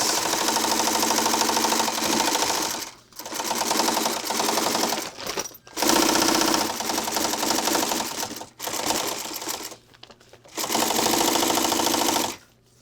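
An old sewing machine stitches a bag in rapid mechanical bursts, running for a couple of seconds at a time with short pauses between runs, loud and close.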